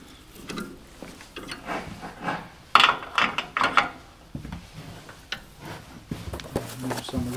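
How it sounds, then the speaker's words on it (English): A wooden chuck is mounted into a Stronghold chuck on a woodturning lathe during a live pendant-jig demonstration. Clustered ratcheting clicks and metallic knocks come up close, with a louder flurry midway and lighter handling noises either side. "we'll mount the chuck, mount the wooden chuck into the stronghold on this offset tenon"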